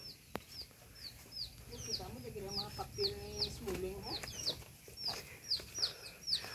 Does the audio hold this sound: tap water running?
no